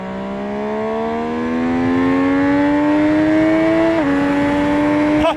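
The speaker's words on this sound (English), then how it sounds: "when you open the throttle and get the revs up" An MV Agusta Superveloce inline-triple motorcycle engine revs up steadily to a high, smooth whine, briefly dips, then climbs again, loud and close.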